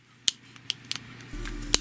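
A Beyblade ratchet mechanism on a Naked Spriggan gives a few sharp, close clicks spaced irregularly over under two seconds, with a low hum entering partway through.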